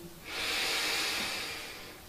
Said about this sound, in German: Wir atmen einmal tief ein